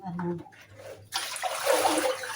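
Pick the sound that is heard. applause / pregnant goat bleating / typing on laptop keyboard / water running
water running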